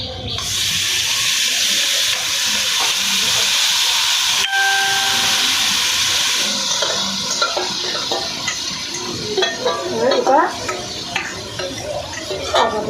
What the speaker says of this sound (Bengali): এবার এতে দিয়ে দেব আমার ম্যারিনেট করা মাংস ছিটকে